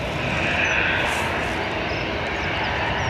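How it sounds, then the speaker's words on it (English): Aer Lingus airliner departing Dublin Airport for Tenerife South, a constant broad jet engine roar heard from a distance, steady and loud with no pauses. "So Aer Lingus off to Tenerife South."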